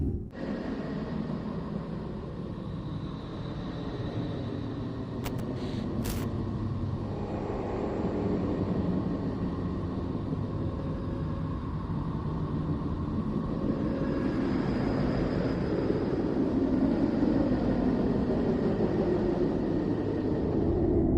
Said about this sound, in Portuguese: Esse ruído nervoso e calmo, parecido com a respiração do mar, ou o som de um avião passando ao longe,